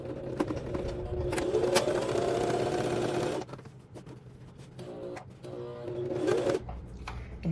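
A domestic sewing machine stitches understitching along the top of a jumpsuit bodice (McCall's 7789) in a fast, steady whir that stops suddenly, then restarts in shorter, quieter runs and pauses, close to the microphone.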